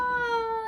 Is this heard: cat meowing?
yes